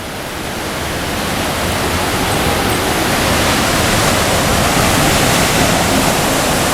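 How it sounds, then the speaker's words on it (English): A waterfall rushes over a cliff edge in a loud, unbroken roar heard from near the top of the drop, swelling slightly at first and then holding steady throughout. "And now we're sort of at the top of the waterfall."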